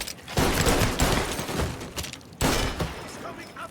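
Gunfire in Mafia: LHPD Stories, a police mod of the Mafia game, loud bursts of shots in rapid volleys with a short break before another sharp burst, voices shouting over it.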